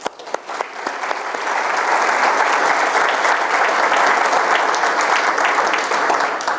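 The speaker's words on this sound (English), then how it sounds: "So I want to give her a round of applause." An audience at a speaking event breaks into applause, starting with a few scattered claps before swelling into steady, loud clapping.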